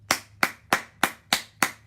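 Six sharp hand claps in an even, steady rhythm, close and crisp, with nothing else around them.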